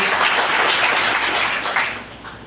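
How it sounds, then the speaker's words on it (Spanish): A crowd gathered with workers and a union at a government event breaks into sustained, fairly loud applause that holds steady and fades slightly toward the close. "pido un gran aplauso a la representación del gobernador"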